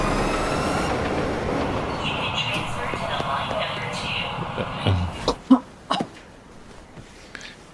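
Inner Circle Line train rumbling steadily along the rails with broad, loud rolling noise, then easing off into quieter clacks and a few sharp knocks near the end.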